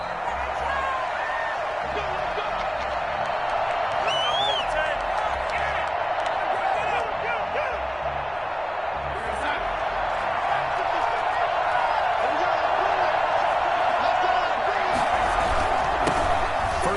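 Stadium crowd at an NFL game between the Carolina Panthers and the Washington Football Team, a steady, dense roar of cheering that holds for the whole stretch with a slight swell near the end.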